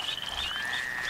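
Frogs croak in the Duck Dynasty video game as high, thin calls repeat over a quiet outdoor ambience, close and moderately loud, with no talking.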